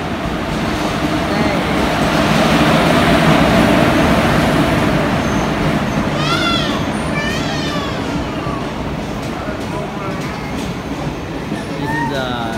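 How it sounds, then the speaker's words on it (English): An Indian passenger train rumbles steadily past a station platform at close range, a dense continuous roar with a few high squeals and honks partway through. "There's other train coming."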